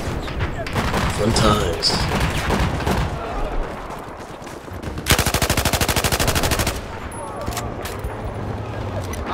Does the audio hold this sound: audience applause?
no